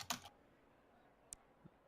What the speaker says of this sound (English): It's a very loud keyboard.